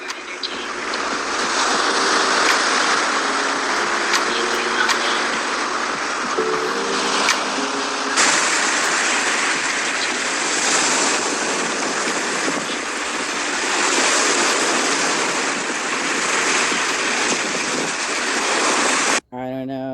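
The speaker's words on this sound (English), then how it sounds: "you're talking about the ocean" Ocean surf rolls in a steady, loud wash with wind buffeting the microphone, continuous throughout with no break.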